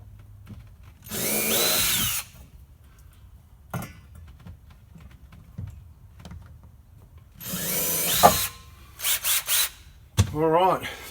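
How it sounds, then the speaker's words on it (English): Power drill boring holes while a rear door is being installed, with two long bursts of motor whine and a couple of short revving pulses, separated by quiet stretches with faint handling noises nearby. "We'll grab the drill."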